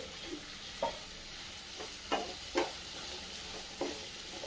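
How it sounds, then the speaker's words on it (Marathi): Diced potato sautéing in a pan for capsicum potato bhaji gives a soft, low sizzle, punctuated by a few brief spatula stirs and scrapes close by. "प्रथम थोडासा बटाटा आपण शिजून घेऊया यामध्येच आपण परतून घ्यायचा आहे तो"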